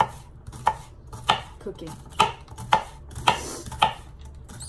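Food is chopped in a home kitchen with a knife striking a cutting board in steady, evenly spaced, close, crisp knocks, roughly one every half second, with no talking.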